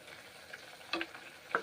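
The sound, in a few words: bitter gourd (karela) frying and being stirred in a pan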